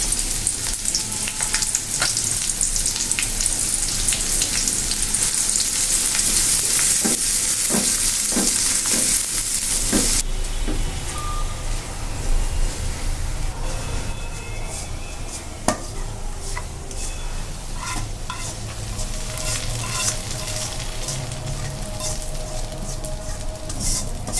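Onion and dried chili fry in hot oil in a pot for a home-cooked lentil dish, a steady loud sizzle with occasional stirring clinks and scrapes, and no voices.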